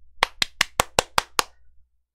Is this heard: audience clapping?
yes